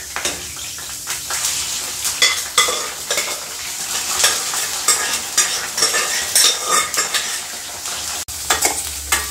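Mutton fries and is stirred in hot oil with curry leaves for a black pepper mutton dish, giving a loud, steady sizzle broken by repeated scraping stirs close by.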